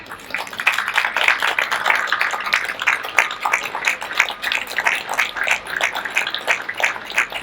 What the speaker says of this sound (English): could we have a round of applause for everybody, please?